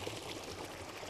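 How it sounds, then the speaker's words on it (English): Water released through a removed wooden board pours into restored moorland, a faint, steady rushing flow with no other sounds over it. "when we remove it, the water flows through and fills the area."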